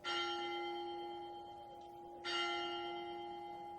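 A large bell tolls twice, each deep ring lingering and slowly fading, the second strike coming a couple of seconds after the first.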